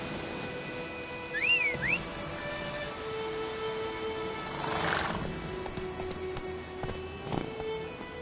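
Roach, Geralt's horse in the video game The Witcher 3, whinnies and snorts over a steady clip-clop of hooves, with a whistle and game ambience around it.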